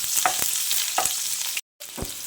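Chopped medium onion hitting well-heated oil, a close, loud steady sizzle with a few stirring scrapes and a brief break in the sound.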